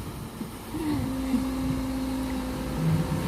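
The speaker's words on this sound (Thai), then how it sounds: "เครื่องเครื่องเรือดังมาก" A boat engine drones steadily and loudly throughout, a constant low hum with a faint whining tone on top.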